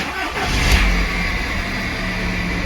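A VW Golf IV with an ignition coil fault cranks and its petrol engine catches, giving a brief rev before settling into a steady idle, close to the microphone.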